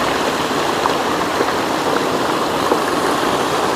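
Water pours down the Meghamalai waterfall in a steady, loud rushing hiss, continuous and unbroken with no voices.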